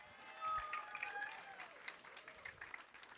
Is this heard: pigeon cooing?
no